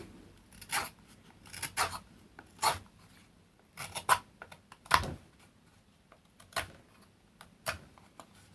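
A craft knife slices through a paint stencil for a tag in a run of short, close, dry scraping strokes at an uneven rhythm, quiet between cuts.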